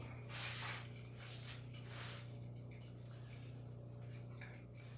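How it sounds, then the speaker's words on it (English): A spoon stirs buffalo wing sauce in a bowl with soft, faint scraping and swishing strokes over a low steady hum, and no one speaks. "Okay, let's give this a mix up."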